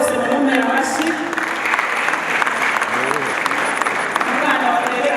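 Warm applause from a crowd at a gathering in Rwanda, a steady close clapping that fills the whole moment, with a voice speaking faintly beneath it.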